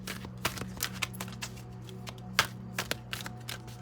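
Tarot cards being shuffled in a series of quick riffles and snaps, close by, with a soft low hum underneath.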